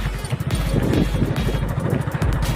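A motorbike riding along a rough rural road, its engine a steady low drone close by with wind buffeting and a faint voice mixed in.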